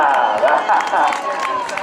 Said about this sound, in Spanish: Arriba, ese aplauso, gracias, gracias.